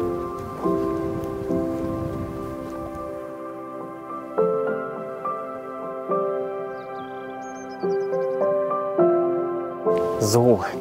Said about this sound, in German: Die ersten Herbstregen ziehen übers Land und der Wind nimmt zu.